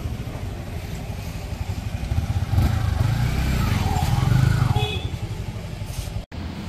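A 2024 Yamaha MT15 MotoGP Monster Energy Edition motorcycle idles close by, then its engine revs up to a louder growl for a couple of seconds before settling back down.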